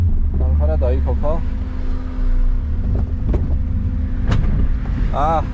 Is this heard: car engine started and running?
yes